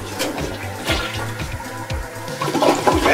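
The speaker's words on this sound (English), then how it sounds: "I think maybe you gotta flush the toilet" A toilet flushes with a loud, sustained rush and gurgle of water that swells toward the end, heard close up with no talking.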